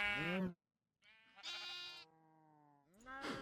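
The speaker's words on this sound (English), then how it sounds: "And actually, we've got a sheep there." Sheep in the Minecraft Project Ozone modpack video game bleat several times, loud, close, drawn-out wavering cries separated by short silences.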